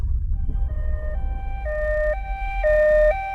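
An arriving ambulance's siren steps between high and low tones in a repeating pattern, growing louder over a low rumble of traffic, with no one speaking.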